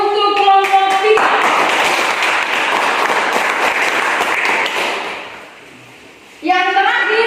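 Classmates applaud a student group after its presentation, a loud, dense round of clapping that swells for several seconds and fades away, with a voice speaking just before it starts and again once it dies down.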